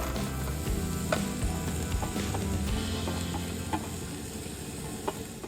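Sliced onions sizzling in about two spoonfuls of cooking oil in a coated frying pan, a dense steady crackle with repeated scraping stirs and clinks, close and continuous, no voices.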